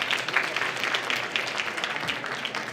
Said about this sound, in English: Please give a big applause again,